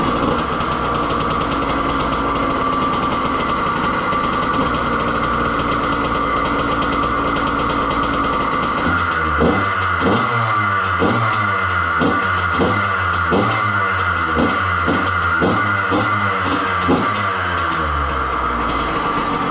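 Yamaha YZ85 dirt bike with a freshly cleaned Keihin carburetor fires up after a stretch of background hum, then runs with a steady, close two-stroke burble and rhythmic pulsing throughout.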